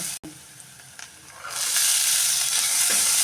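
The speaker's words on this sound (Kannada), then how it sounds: "ನಾನು ಶುಂಠಿ ಬೆಳ್ಳುಳ್ಳಿ ಪೇಸ್ಟ್ ಹಾಕೊತಾ ಇದ್ದೀನಿ ಹಾಕೊಂಡ್ಬಿಟ್ಟು ಇದು ಸ್ವಲ್ಪ ನಾನು ಫ್ರೈ ಮಾಡ್ಕೊಳ್ಳೋಣ" Onion frying with ginger garlic paste in a hot pan, a steady loud sizzle that swells partway through as the paste goes in, with a few faint stirring knocks and no talk.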